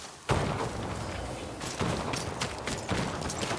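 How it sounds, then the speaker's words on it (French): Musket gunfire in the video game Ghost of Yotei, a burst of heavy booming shots in a sustained volley, with several sharp onsets spread through the clip over a dense roar. "Des coups de feu. Ils ont des mousquets."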